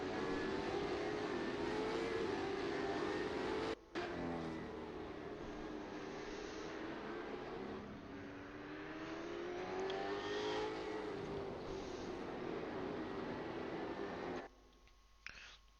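Supercars racing at Queensland Raceway drone and rev continuously at a distance, their engine pitch rising and falling as cars pass, then the sound drops away abruptly near the end.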